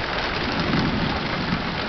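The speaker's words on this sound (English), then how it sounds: "You can hear the thunder." Steady rain hiss with a low rolling rumble of thunder from a late summer storm passing over farmland near a barn, continuous and fairly loud with no voices.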